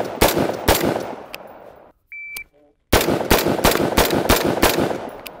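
A rifle fired rapidly at close range, sharp evenly spaced shots in two strings separated by a short pause with a timer beep, loud and near.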